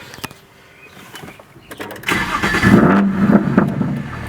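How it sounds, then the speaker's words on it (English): A 750 HP BMW 135i with a twin disc clutch cranks and starts, close by: a few seconds of faint clicks and cranking, then the engine catches and settles into a loud, steady running rumble. "let me go ahead and start the car up here."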